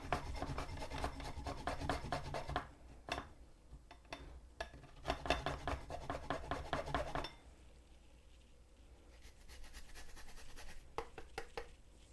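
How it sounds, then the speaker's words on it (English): Fresh ginger grated over a bowl, close rhythmic rasping strokes in bursts with short pauses between. "We need 3/4 of a teaspoon of fresh ginger. I am going to just grate this in here."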